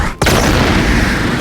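A booming cannon-like blast from a dragon's Heat Wave Cannon attack in the video game Blox Fruits erupts suddenly after a brief silence and sustains as a loud, roaring wash.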